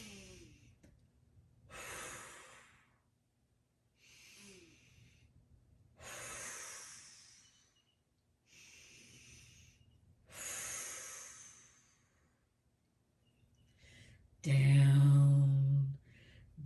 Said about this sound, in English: So here we go, 3 deep breaths.